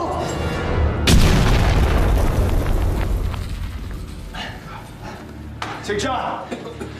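A grenade detonates in an action movie scene, one heavy booming blast about a second in, rumbling debris decaying afterward, with a later burst of clatter and voices talking.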